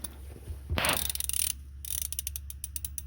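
A ratchet tightening a 19mm bolt on an aftermarket steering wheel in a Nissan Hardbody or Pathfinder, a quick burst of clicking followed by a steady run of close, crisp ratcheting strokes.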